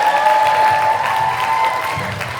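An audience at a school fine arts retreat applauds a performer and her accompanist with steady, sustained clapping from a large crowd. A faint tonal hum sits under the clapping.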